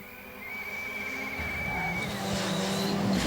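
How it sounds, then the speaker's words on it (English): A rally car on a stage at Rally Poland eases off as it slows, engine note drifting and falling while tires hiss on the road, heard steadily up close with a faint high whine over the rumble. "Just having to slow down there slightly as he passes the scene of Lukanuk's crash"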